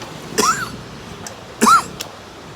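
Two short harsh coughs, one after the other with a pause between, fairly close over a quiet room background.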